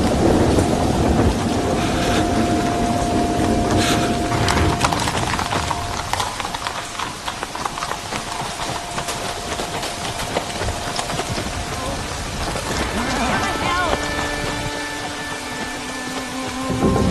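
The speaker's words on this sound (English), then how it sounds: "Abbot, Marcus, we seek shelter from the storm." A heavy thunderstorm with steady pounding rain and rolling thunder, loud and close throughout. Other tonal sounds rise over the downpour later on.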